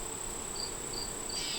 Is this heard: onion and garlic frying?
no